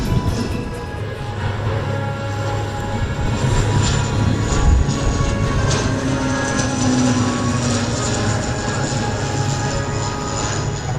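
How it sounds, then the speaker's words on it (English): A Czech Air Force CASA C-295 medium transport aircraft making a display pass at an airshow, its steady turboprop engine drone and propeller whine loud and continuous throughout with no voices over it. "Opening the flying display was the Czech Air Force with this Kasa 295 medium transport aircraft."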